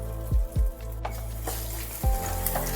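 Poppy seed, cashew and green chilli paste hitting a hot pan with sesame seeds: a few low thuds as it drops in, then a close steady sizzle with light stirring, no talking.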